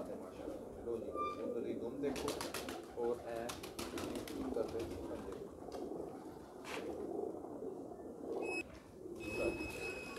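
Pigeons cooing softly in a loft or enclosure, a steady low murmur running under continuous nearby talk, with a faint flutter or two.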